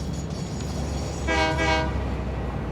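Trains running in the video game Satisfactory, with a steady rumble of rolling railcars and a short burst of loud horn near the middle, no talk.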